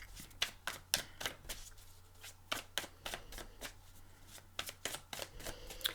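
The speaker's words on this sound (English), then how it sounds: "And then we'll read the Mother Mary cards." Mother Mary oracle cards shuffled by hand, a quick run of crisp riffling bursts and soft slaps repeating across the whole stretch, close and clear with no voices.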